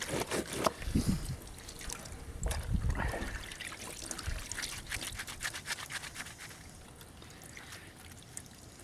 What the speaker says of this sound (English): Now these are going to have to go in the rinse water